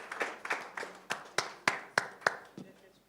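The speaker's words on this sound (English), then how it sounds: "Once again, a big applause to the Green Climate Fund." A short burst of applause at a conference award ceremony, a small crowd clapping in quick irregular claps that thin out toward the end.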